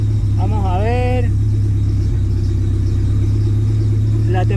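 A Mitsubishi Eclipse GSX engine idles close by with a constant low hum, while someone talks over it throughout.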